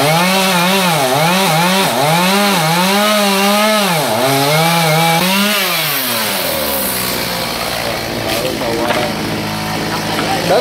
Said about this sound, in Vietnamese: bắt đầu giật máy cưa cho ngã nha các bạn